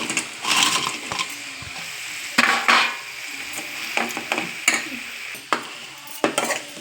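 Fried cauliflower for gobi manchurian being stirred in a pan, with close, loud spoon scrapes and clinks against metal in an irregular rhythm over a low sizzle.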